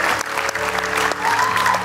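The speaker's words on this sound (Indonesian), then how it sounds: "tepuk tangan buat anak gaul Cirebon" Studio audience applause on a Family 100 game show, a brief burst of clapping with music and a voice blended underneath.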